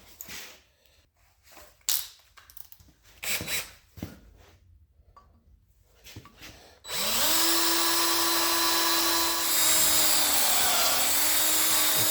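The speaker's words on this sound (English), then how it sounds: "Then I got to drill and tap this here so I can actually thread this into it." A power drill bores a hole in metal on a bead roller to prepare it for tapping a bolt thread, first some scattered knocks and handling, then a loud sustained high whine for the last five seconds.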